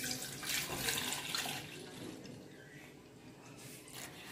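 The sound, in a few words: pouring milk into a pot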